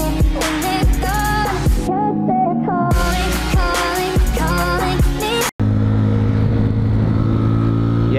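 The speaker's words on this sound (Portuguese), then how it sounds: "vamos ver quanto que a motinha pega engarupado com relação 15:38" A Honda Fan 125 motorcycle geared 15x38 rides with a passenger. Music plays first, then a steady engine drone runs alone for the last few seconds.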